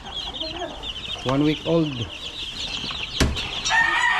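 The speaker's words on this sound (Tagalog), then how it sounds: "Bago pupunta sa ibang area, unahin na natin yung ating sisiw" One-week-old chicks peep in a steady, high, shrill chorus close by, with a few louder clucks mixed in while a person speaks over them.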